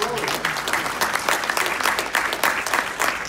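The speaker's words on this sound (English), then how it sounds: "Give her a round of applause." An audience at a live event on the state of Black women in Texas breaks into steady, lively applause, clapping continuously at close range with faint crowd murmur.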